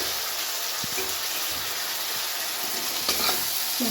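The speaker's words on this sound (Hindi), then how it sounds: "देखिए मटर फूटने लगे ना" Peas frying and popping in a hot pan for masala Maggi, a loud steady sizzle with a few sharp pops and stirring scrapes, close and alone.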